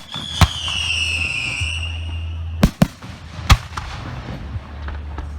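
Professional firework shells burst in several loud, sharp booms at a Richmond, Missouri display, one rising whistle near the start and crackling echoes trailing after, with a steady low rumble underneath.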